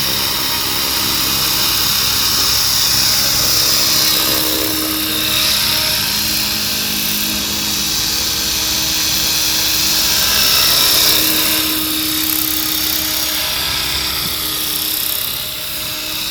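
A Gartt 500-size remote-control helicopter flies close by, its loud whining motor and rotor buzz steady throughout with slow swells in pitch and volume as it manoeuvres.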